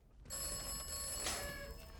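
A telephone rings in the video game Atomfall, with steady electronic ringing tones sounding close and clear for about two seconds, with no talk over it.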